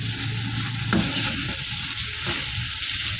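Chicken boti pieces for smoky chicken angara are tossed in a pan over high heat, giving a loud, steady sizzle broken by a few scraping stirs.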